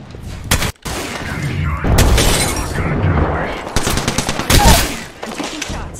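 Rapid automatic gunfire bursts in Apex Legends, loud and close, with sharp repeated volleys and dense combat noise, overlapping explosive booms and game voice callouts throughout.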